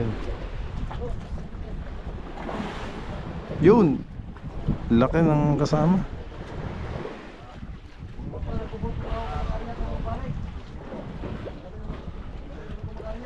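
Strong wind buffets a fishing boat out at sea, a steady rushing roar across the whole stretch, with people talking over it and a few louder gusts and knocks midway.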